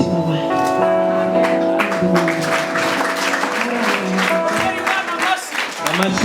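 Church congregation at a choir's 25th jubilee celebration in Nyamata, Rwanda, clapping loudly and continuously with a dense roar of hands, mixed with voices and a held musical tone.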